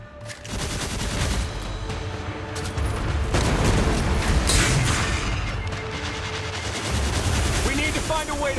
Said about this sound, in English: The Goliath tank's back.